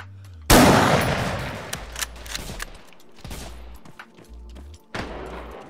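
Sharp bursts of gunfire in the video game Arma 3, Vietnam setting, ring out, a loud volley at the start followed by scattered shots and short rattling bursts, with no speech.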